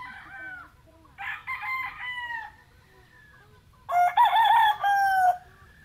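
A rooster crows three times in a row, loud and close, each call long and rising, with short quiet gaps between them and faint farmyard background.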